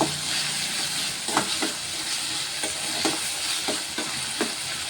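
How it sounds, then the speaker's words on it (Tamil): Onions and tomatoes sauté in oil in a pan for a Tamil fish curry, giving a steady close sizzle with repeated scraping stirs of a spoon at an irregular rhythm, with no talking. "இப்போ வெங்காயம் தக்காளி நல்லா வதங்கி வந்துட்டுருக்கு"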